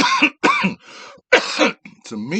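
A person coughs and clears their throat in several harsh, close bursts after smoking weed, with brief pauses between the fits.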